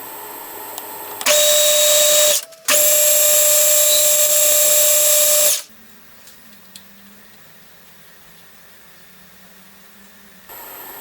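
A drill bores holes in cylinder covers for a Stuart Turner No. 8 mill engine, two loud, steady high whines with a short gap between them, followed by quiet workshop hum.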